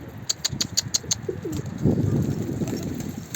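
A yellow pied runaway flight pigeon on a roof, its low cooing rising near the middle after a few brief high chirps, fairly close and alone without voices.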